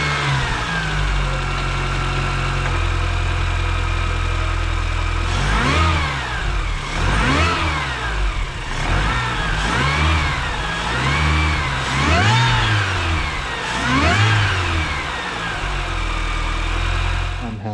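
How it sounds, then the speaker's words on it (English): Mini Cooper S fitted with a cold air intake, its engine idling steadily at first, then revved repeatedly in a rising and falling pattern with a whining supercharger tone, heard close up. "now let's fire up the car, and hopefully it'll make a bit more noise inside too while it sucks up the cold air"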